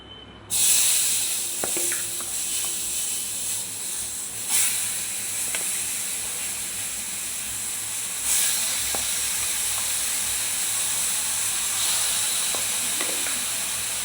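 Leftover food heating in a pan gives off a steady hiss and sizzle that starts abruptly, stays continuous and close, with a few faint knocks along the way.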